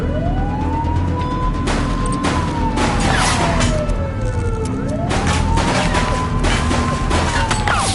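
Gunfire from a suspect during a police chase in the game The Precinct, with sharp shots breaking through loud wailing police sirens and heavy traffic noise.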